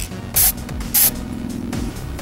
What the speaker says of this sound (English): start spraying it inside your glass container